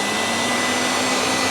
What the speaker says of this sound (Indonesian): Ini saya pakai hand mixer, kita aduk-aduk dulu kayak gini supaya nggak terbang banget ya.